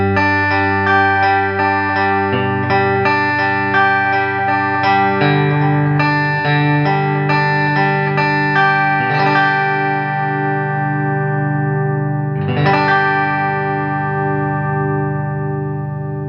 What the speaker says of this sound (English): This middle and bridge produces a very glassy sound on the clean tone.